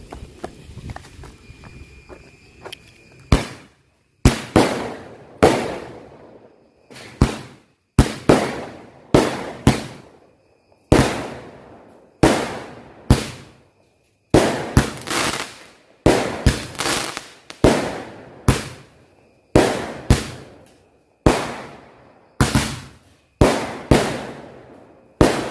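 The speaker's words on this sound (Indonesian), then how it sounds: "Yang pertama kita nyalain 2 buah mercon Roman Candle sekaligus." Two Roman Candle fireworks fire together, launching a steady series of loud, sharp pops roughly every second, each blast ringing out with a short decaying tail, close by and with no talk over them.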